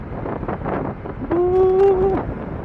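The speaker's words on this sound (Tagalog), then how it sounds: "lakas ng hampas ng hangin yan sa ano ko helmet lakas ng tunog" Steady rushing wind buffeting a motorcycle helmet while riding in rainy, stormy weather, loud and close, with a brief whistling tone rising partway through.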